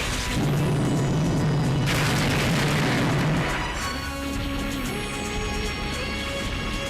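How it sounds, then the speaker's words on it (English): Missiles exploding in the Robotech Battlecry video game: a dense, rumbling burst of booms runs through the first half, then thins into a lighter layer of game effects and tones that carries on to the end. "I need to shoot down the missiles, that way I can not get hit so much."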